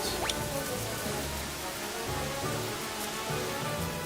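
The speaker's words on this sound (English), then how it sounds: "We just used acid rain." The acid rain spell in Final Fantasy VI gives a steady hiss of falling rain with soft, dull low rumbles pulsing underneath, and a brief rising chime at the very start.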